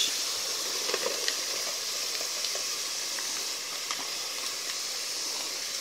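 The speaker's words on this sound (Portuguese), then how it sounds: "E agora aqui eu vou colocar o molho de tomate." Tomato sauce hits a hot pan of ground meat for stuffed zucchini, producing a continuous bright hiss and sizzle that holds steady and close throughout.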